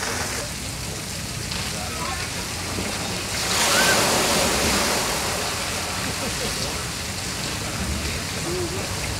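Water pours and splashes down steadily at an outdoor water park pool, a broad continuous rush that swells louder for a moment midway, with faint voices in the background.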